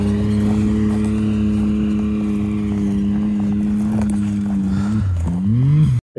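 An off-road vehicle engine, out for mudding, runs at a steady, rumbling idle close by, then revs up and climbs sharply just before cutting off abruptly at the end; no voices.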